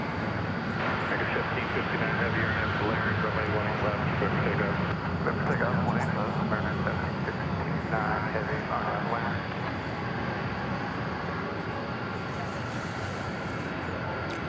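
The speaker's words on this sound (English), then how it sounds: "So there goes the Dreamliner to LAX." A Boeing 787 Dreamliner takes off from DFW Airport, its steady engine roar held for the whole stretch under a voice talking throughout.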